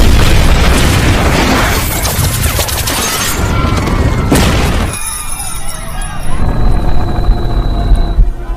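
A bomb explosion from a tower bursts as a loud, sustained roaring blast filling the scene, then gives way to scattered crashing and rattling debris.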